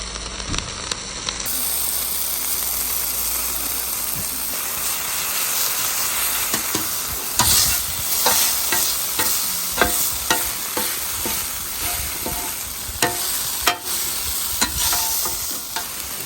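Ground beef and onions sizzling in a pan inside a camper van, a loud steady hiss with scattered spatula scrapes and pops, close by, with no talking.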